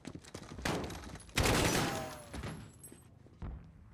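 Gunfire in the video game Call of Duty: Modern Warfare, a prison mission: loud bursts of automatic fire and fusillades, with a heavy volley near the middle and scattered shots toward the end.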